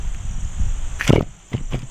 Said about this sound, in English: Here it is on bike tire tubing.